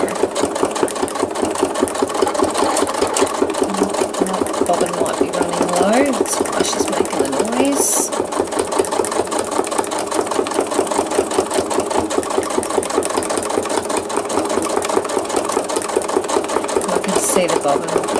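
Rapid, continuous machine stitching for thread art fills in a photo-based design, a loud steady whirr with a fast needle rhythm and no pauses, broken only by a few faint handling sounds.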